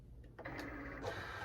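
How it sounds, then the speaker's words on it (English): Cricut cutting machine drawing its cutting mat in through the rollers, a steady whirring motor hum after a brief click, close and quiet. "Push the flashing load, unload button in the machine."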